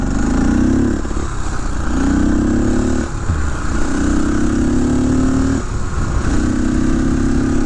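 A 1972 Honda XL250 motorcycle engine revs repeatedly, loud and close, climbing in pitch with each twist of the throttle and dropping back between pulls.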